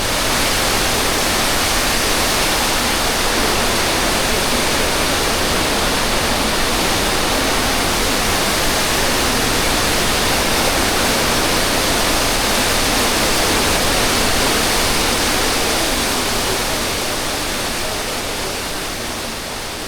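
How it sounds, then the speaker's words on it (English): Roar of Murchison Falls, the great waterfall on the Nile River in Uganda: a dense, steady broadband rush that holds constant and loud throughout, easing slightly at the very end, with no voices. "Murchison Falls is famous for having the largest waterfalls on the Nile River"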